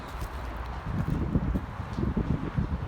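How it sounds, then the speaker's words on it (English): Steady wind buffets and rumbles across the microphone throughout, near a railway bridge, with low gusty thumps and a constant rushing hiss; no one speaks. "it's a bit windy"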